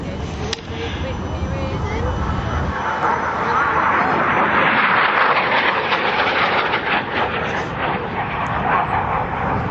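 An RAF Harrier GR7 jet performing a display at Biggin Hill Airshow in 2006, its broad roaring engine noise swelling and holding loud across the clip while a commentator talks over it.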